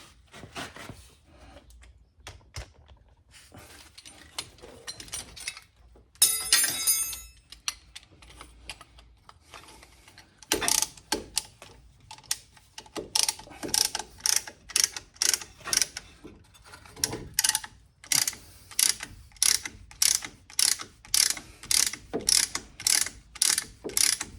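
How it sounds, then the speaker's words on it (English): A ratcheting tool compresses the brake caliper pistons on a 2016 Mazda CX5, clicking in scattered bursts at first, then in a steady run of sharp, close ratchet clicks. "All you're doing is compressing the caliper pistons in."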